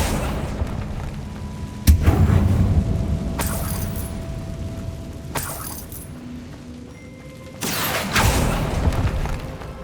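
Spell blasts from Confringo and Repulsor in Hogwarts Legacy: several loud booming impacts with crackling bursts, spaced a few seconds apart over rumbling game ambience, no talk.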